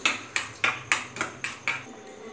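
Omelette eggs beaten in a bowl, seven quick rhythmic clinking strokes of a utensil against the bowl, close and clear, evenly spaced, with no talk.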